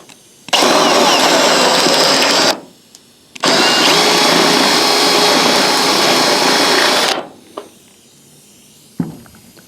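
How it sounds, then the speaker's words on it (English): A spot weld cutter drills out roof panel spot welds on a 1963 Chevy truck, giving loud, close, steady whining grinding bursts of about two and four seconds separated by a brief pause, then a short clunk. "I'll take this spot weld cutter"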